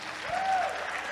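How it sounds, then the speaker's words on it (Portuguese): Congregation applauding during a church service, a short burst of steady clapping with a faint voice briefly rising over it. "pode aplaudir ao Senhor"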